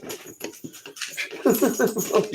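A dog whimpers and whines in short, fretful bursts, close by, with people talking over and around it throughout.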